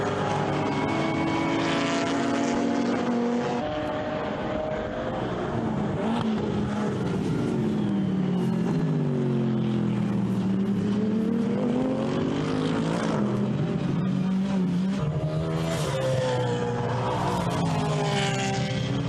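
GT race cars circling Donington Park in a 2013 British GT round, several engines roaring and rising and falling in pitch as they pass, loud and continuous.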